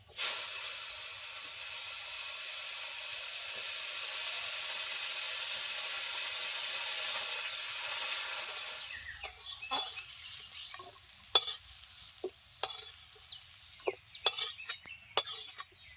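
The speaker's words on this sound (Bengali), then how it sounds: "উচ্ছেগুলো ভেজে নিচ্ছি" Bitter gourd frying in the oil left from frying small fish: a loud, even sizzle and hiss for about nine seconds, then quieter crackling with sharp stirring clacks and scrapes of a spatula.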